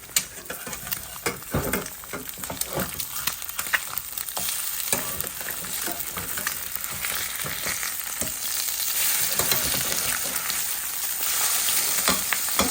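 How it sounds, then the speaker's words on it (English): Eggs fry in a pan during breakfast cooking alongside longanisa sausage, giving a loud, continuous crackling sizzle throughout with occasional sharper pops. No one speaks. "now I'm gonna flip my eggs"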